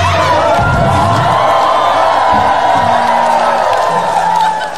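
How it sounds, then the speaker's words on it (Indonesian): Live audience at a comedy stage show in West Java, Indonesia, a loud crowd roaring with cheers, whoops and shouting that swells together, with voices mixed in throughout. "Terima kasih untuk tepuk tangannya."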